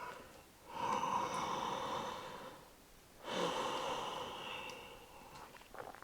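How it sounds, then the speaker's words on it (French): Two slow, deep breaths during a yoga flow, each a long airy inhale-exhale swell close to the ear, separated by a quiet pause in an otherwise still room. "Prenez quelques respirations profondes."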